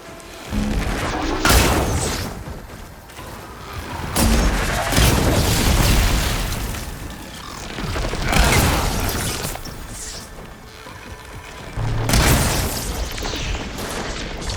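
Repeated booming blasts and bursts of weapon fire as Zoe shoots from above in Horizon Forbidden West, loud and dense in several waves across the stretch, with mechanical clatter in between.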